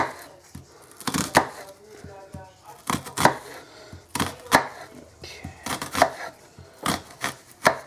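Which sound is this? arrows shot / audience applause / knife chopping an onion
knife chopping an onion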